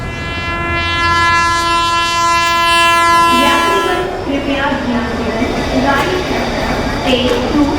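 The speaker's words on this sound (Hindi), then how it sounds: "चुपचाप चलो ट्रेन में बैठ जाओ।" A train horn blares loudly and steadily for several seconds, then gives way to rumbling railway noise and station commotion with people talking nearby.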